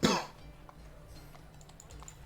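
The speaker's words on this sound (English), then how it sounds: "and he coughs" A game master voicing a guard in an AD&D tabletop session gives one close, abrupt cough. A quiet room follows, with faint clicks in the background.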